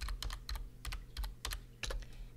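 Computer keyboard typed on in quick irregular bursts of soft clicking keystrokes, close and fairly quiet, with short pauses between flurries and no talking.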